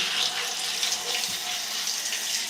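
Water running steadily from a tap into a sink, left on to warm up, a continuous broadband hiss at close range with no talking.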